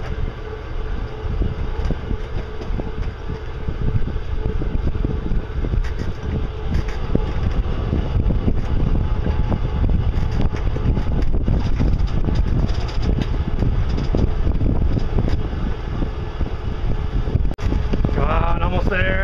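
A small boat's motor drones loud and steady throughout, with wind buffeting the microphone and water noise over it.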